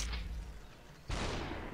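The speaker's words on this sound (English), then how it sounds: "I tried to shoot the bullet out of this guy" A shotgun fires twice in the video game SUPERHOT, two sharp, loud blasts about a second apart, each trailing into a short decaying rumble.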